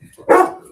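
A single loud dog bark rings out close by in a quiet room, a short sharp burst with faint background noise before and after.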